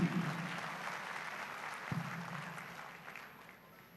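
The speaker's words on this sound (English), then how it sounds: "Let us once again appreciate them with a heartfelt round of applause" Audience applause at a cultural event honoring shared heritage, a soft, steady round of clapping that gradually fades, heard at some distance with no voices.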